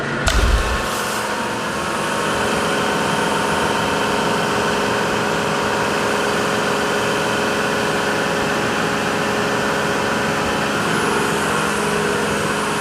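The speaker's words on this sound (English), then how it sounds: "I'm gonna switch guns and fire the power washer back up" A gas-powered power washer engine restarting after a brief thump, then running at a steady loud drone with constant tonal hum.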